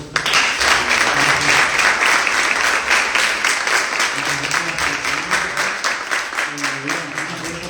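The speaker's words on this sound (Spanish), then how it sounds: "les pido por favor un aplauso para ellos" At an entrepreneurship event, an audience gives guests a sustained round of applause, steady dense clapping filling the room at a consistent level, with faint voices underneath.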